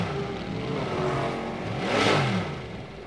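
A Corvette GT race car engine on track at Circuit of the Americas, revving with a rising and falling whine that swells loudly near the end as the car passes close, engine note sweeping through gear changes.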